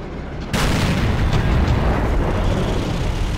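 A Nashorn tank destroyer's main gun fires once in World of Tanks, a sharp, loud, close boom that rolls into a long, booming decay.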